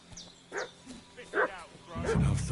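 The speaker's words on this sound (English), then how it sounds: "What's that dog making such a fuss about?" A dog in the medieval video game Kingdom Come: Deliverance 2 gives several short barks and yips at moderate distance, partly under a man's speech and a rising rumble.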